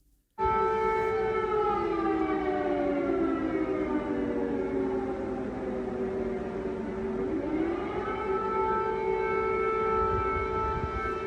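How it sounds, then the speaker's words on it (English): A loud air raid warning siren sounds continuously, its pitch sliding down and then rising again in a long sustained wail, with a steady rumble underneath. "This is the first time I've heard those warning sirens."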